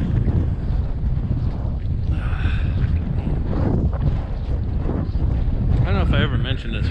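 Strong wind roars across an open North Dakota lake during a duck hunt, buffeting the microphone in a steady rumble with brief voices breaking through near the end.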